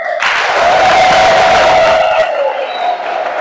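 A church congregation bursts into loud, dense applause that fills the space for about two seconds at a Marian feast-day Mass, then fades into a softer, lingering crowd murmur.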